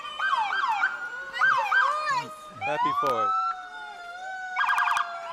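Police car siren wailing and yelping loudly and nearby at a Fourth of July parade in Burlington, rising and falling in repeated sweeps with a brief voice heard under it.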